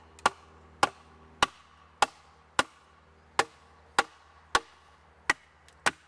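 A Juchten Bowie knife chops into a 10 cm thick branch full of side twigs, giving about ten sharp, loud wooden blows at a steady rhythm, each close and distinct with no voices.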